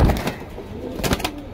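Border pigeons in a cage give a brief, soft, low cooing close by, with faint rustling and no voices.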